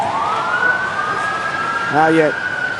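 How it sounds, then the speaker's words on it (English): Emergency vehicle sirens wail steadily through a WWE wrestling arena, a continuous rising and sustained tone at moderate distance, with a short harmonic burst near the end. "as everyone here in the arena can hear the sirens, we have to believe that emergency medical personnel are arriving on the scene"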